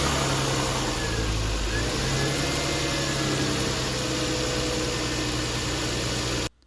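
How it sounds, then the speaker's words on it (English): A Lexus GS 300 with a 2JZ-GE inline-six, just fitted with new valve cover gaskets, idles with a steady low hum and broadband hiss, loud and continuous, cutting off abruptly at the end. "it's time to start the engine up"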